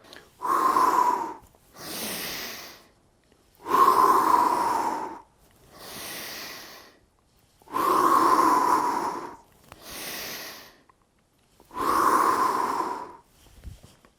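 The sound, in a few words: slow breathing exercise, pause after inhaling, long exhale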